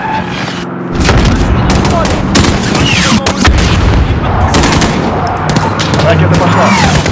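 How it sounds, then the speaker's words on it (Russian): Loud, dense gunfire in Call of Duty: Modern Warfare, with rapid machine-gun bursts and heavy booms rolling continuously close by, while voices talk beneath the barrage. "Стреляю."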